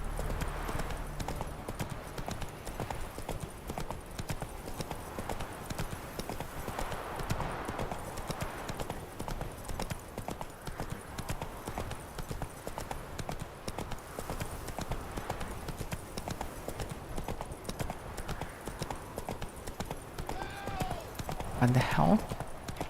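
Roach the horse trots in The Witcher 3, steady clip-clopping hooves running throughout under a constant ambient wash, fairly close, with a short sharp cry near the end.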